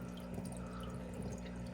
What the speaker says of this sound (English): Matten filter with a drip